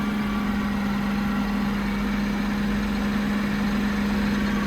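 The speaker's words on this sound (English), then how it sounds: "So you'll be able to hear this tractor" A Fendt 200 Vario tractor idles at a stop, a steady low engine hum with a strong constant tone running the whole time, close and even, with no talk over it.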